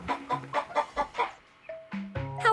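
Chickens cluck in quick, repeated bursts at close range, followed by a few higher, drawn-out squawks.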